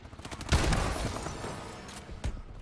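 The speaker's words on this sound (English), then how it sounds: "The RW1. A railgun pistol." RW1 railgun pistol in Call of Duty: Advanced Warfare fires in rapid game gunfire, with sharp loud reports and a hot burst, over a busy dense soundscape.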